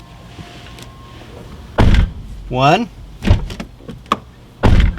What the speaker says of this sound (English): we're going to close the driver's door and open it twice